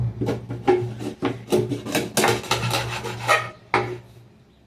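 A knife chops through a flying fish (kola meen) on a cutting surface, giving a series of sharp, close cutting and scraping strokes in an irregular rhythm, with an underlying steady hum, and no talking.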